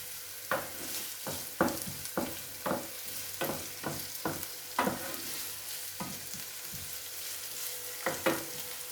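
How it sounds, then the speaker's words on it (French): Chouchouka vegetables with chili pepper frying in a pan, a steady soft sizzle broken by about a dozen sharp scrapes and stirs at an uneven rhythm, close and fairly quiet with no talk. "Voilà, là, c'est en train de commencer à cuire."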